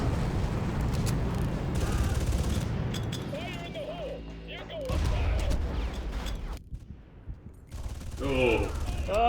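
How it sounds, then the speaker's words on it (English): Gunfire in the video game Far Cry, a noisy rapid stream of shots at the start and again near the end, with game music and a voice in between. "Why is he shooting the ground?"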